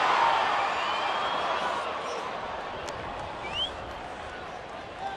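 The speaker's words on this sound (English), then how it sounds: "Got the crowd excited." A baseball stadium crowd roars after a foul ball in a Diamondbacks at Rockies game, a broad, distant swell of cheering that fades gradually, with an announcer talking over it.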